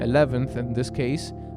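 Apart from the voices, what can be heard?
No distinct noise like a dog, phone or traffic.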